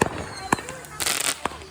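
Fourth of July fireworks going off outdoors, sharp bangs and crackling bursts at irregular intervals, with people talking nearby.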